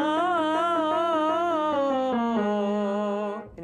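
A tenor sings a fast trill agility exercise on ah and oh near the upper passaggio, with rapid wavering pitch over sustained stepping notes. It is loud and close and ends abruptly.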